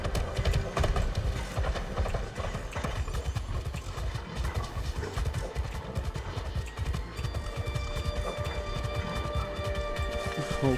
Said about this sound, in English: Use the horse, try and get there a little bit quicker.